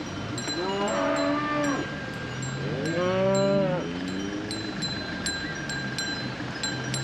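Cattle moo on a road in rural Georgia, two long drawn-out calls close by, with a cowbell clinking in the background.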